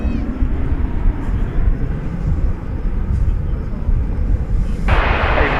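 Airbus A320 airliner at DFW Airport, a steady, loud, broadband jet engine roar that holds throughout, with a brighter hiss swelling in near the end.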